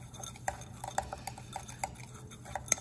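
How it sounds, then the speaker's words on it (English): Stirring a mixture of barium hydroxide and ammonium chloride: soft, irregular clinks and scrapes of a utensil against a container, faint and close, with small ringing taps. "I'm gonna keep stirring."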